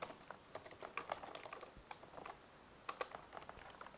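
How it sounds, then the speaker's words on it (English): Steady typing on a computer keyboard while entering registration details, quick irregular key clicks and taps close by at low volume, no voices. "let me just type in some information here"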